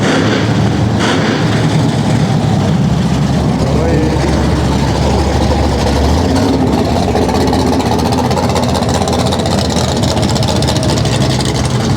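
Jet-powered drag racing car at a night drag race at Keystone Raceway, its engine a loud, dense, continuous roar that shifts lower partway through, with voices faintly mixed in.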